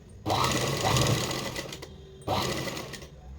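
A sewing machine stitches fabric for a puff princess-cut garment in two close bursts of rapid mechanical whirring, a long run followed by a brief pause and a shorter run.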